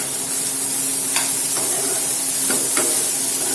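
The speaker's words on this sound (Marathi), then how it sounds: "कांदा आपल्याला आता छान मऊ होतपर्यंत व्यवस्थित कमी फ्लेमवरती भाजून घ्यायचा आहे" Chopped onion sautés gently in oil over a low flame for a cauliflower-greens curry, giving a constant soft hiss broken by a few sharp scraping stirs, close up and without speech.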